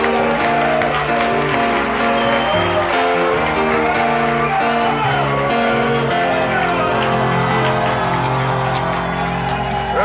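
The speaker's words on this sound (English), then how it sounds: "give a big round of applause for Terrible Tim" A studio audience claps and cheers for a guest on a television show, a loud, sustained wash of applause over music, with no break through the whole stretch.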